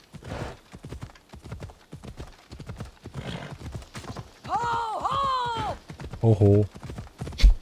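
Horse hooves clip-clop at a gallop in the video game Assassin's Creed Odyssey, with a loud whinny partway through and a voice talking over the steady hoofbeats.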